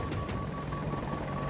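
A helicopter from a military video game drones overhead in a steady, close, continuous whir with a faint rhythmic rotor thump.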